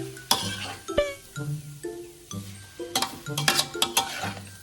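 Food being stirred and mixed in a hot pan with seasoning sauce during home cooking, with repeated scraping strokes and light metallic clinks of a utensil against the pan over a soft sizzle, close and moderately loud.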